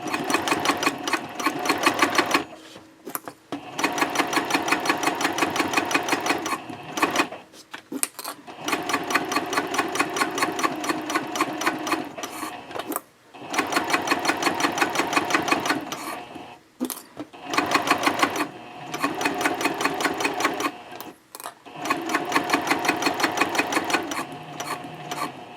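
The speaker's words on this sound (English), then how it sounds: "You want to back stitch at both ends and just sew straight across that seam." A sewing machine stitches a seam across Cordura fabric with contrasting thread, backstitching at both ends. Close, loud bursts of rapid mechanical whirring run several seconds each, separated by short pauses.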